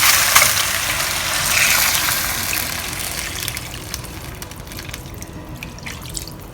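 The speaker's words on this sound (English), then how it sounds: "Now we're going to add water." Water pours steadily into a cooking pot of chicken for braising, a gushing splash that is louder at first and gradually settles into a softer trickle.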